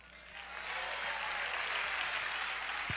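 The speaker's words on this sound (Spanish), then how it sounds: "esos jóvenes se merecen un aplauso" Broad, steady applause from a crowd at a youth convention, swelling within the first second and then holding as a dense, continuous wash of clapping.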